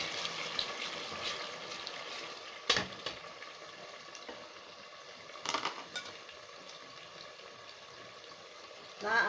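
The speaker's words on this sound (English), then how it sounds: "the tomato that you are frying" Quiet sizzling of tomatoes seasoned with Maggi frying in a pan, with a few sharp clinks of a utensil against the pan now and then.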